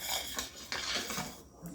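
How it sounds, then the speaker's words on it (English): A utensil scrapes and clinks against a pan while marry me chicken sauce is stirred, a few soft metallic taps and swishes close by. "And we're going to stir."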